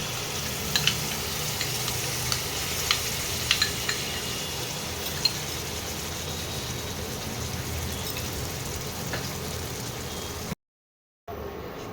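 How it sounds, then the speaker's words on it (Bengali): Spice paste and sauce sizzle and fry steadily in a pan of pumpkin with sesame seeds, a continuous close crackle with occasional stirring taps, briefly cut to silence near the end. "দেখো মশলাটা ভালো করে আমি কষিয়ে নিচ্ছি"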